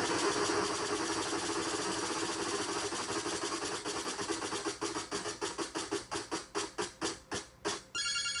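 A wheel spins in the NES Wheel of Fortune video game: a rapid electronic ticking that starts as a blur, then separates into distinct clicks that slow steadily until the wheel stops.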